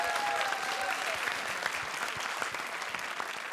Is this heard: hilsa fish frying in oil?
no